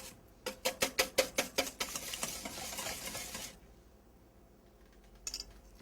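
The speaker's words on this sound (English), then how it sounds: "you just want to beat this until the egg is combined" An egg being beaten into strawberry shortcake batter with heavy whipping cream and vanilla, a quick run of about ten rhythmic whisking strokes close up, then a steadier stirring and a pause before a last brief clink.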